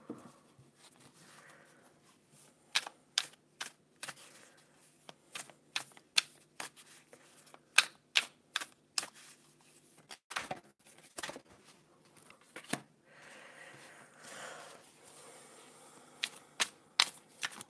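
Oracle cards being shuffled by hand, a quiet series of sharp riffling snaps and soft papery slides repeating in irregular bursts, close and alone with no talking.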